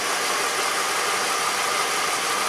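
Car engine idling with one fuel injector disabled, a steady close mechanical hum with a slightly uneven, rough texture, continuous and alone.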